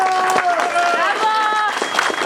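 Spectators at a GSMP Limanowa 2010 hill-climb award ceremony applaud and cheer for a Mitsubishi Lancer Evo VI driver, a close, lively wash of clapping and crowd noise mixed with voices throughout.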